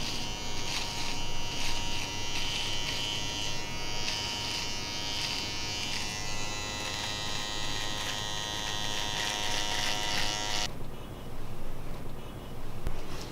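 An electric trimmer buzzes steadily and close up while a barber trims the edge of a big beard, the high whine continuing for most of the span before cutting off near the end, with no talking.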